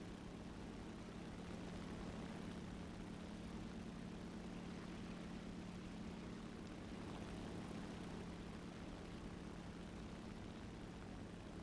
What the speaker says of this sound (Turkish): Onun dışında harita dışına doğru tırmanıyorum.